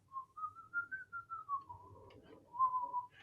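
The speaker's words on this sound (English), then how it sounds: "It's great to use whistling as the example, because most people can whistle." A person whistles alone, a clear, fairly quiet, wavering tone that slides gently in pitch in short pulsed phrases, with a brief pause before a final rising phrase.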